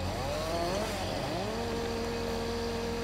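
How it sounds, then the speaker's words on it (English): A chainsaw in Farming Simulator 19 runs close and loud with a steady engine drone, revving up briefly and then settling into an even high idle. "Get my chainsaw out here."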